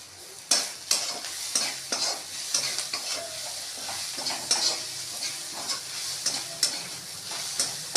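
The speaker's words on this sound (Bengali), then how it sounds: "আদা দিয়ে একটু ভেজে নিলাম" Chopped ginger and onions fry in a wok with steady sizzling, while a spatula stirs and scrapes in repeated clattering strokes throughout, close and moderately loud, with no talking.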